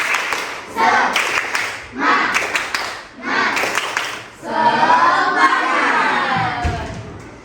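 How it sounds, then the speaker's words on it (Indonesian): A school class performs a rhythmic spirit clap, several sharp bursts of unison clapping with pauses between them and children's voices chanting and shouting along, ending in a drawn-out group shout. "Tepuk semangat."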